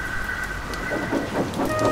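Heavy rain pouring down in torrents, a steady hiss of drops with a low rumble underneath and some tonal background sounds, moderately loud and continuous without speech.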